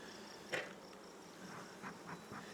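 Honey bee drones buzzing around a hive shortly after a Demaree swarm-control split, a faint steady insect drone with a few brief louder passes as bees fly near, quiet and without talking.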